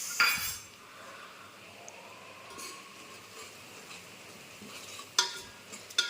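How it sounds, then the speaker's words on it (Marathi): Bengali chicken cooking in a pot, stirred now and then as roasted cumin powder goes in, with quiet scraping and faint sizzling, then a few sharp metallic clinks of a spoon against the pot near the end. "मध्ये मध्ये हलवायचं आता जिरा पावडर रोस्टेड जिरा पावडर"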